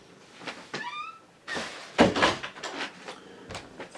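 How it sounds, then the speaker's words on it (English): An indoor door is pushed shut with a few clattering bumps and a firm closing thud in the middle, followed by lighter handling knocks, close and moderately loud. "I'm just gonna close the door 1 second."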